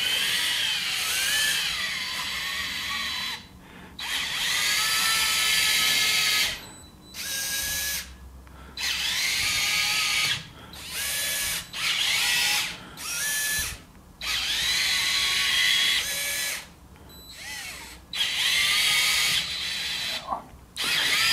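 Whiny high-pitched buzz of CADA micro-motors driving a motorized LEGO Technic 8436 truck in fast mode at about 9 volts, in repeated bursts with short pauses as the truck speeds up and stops, close and loud.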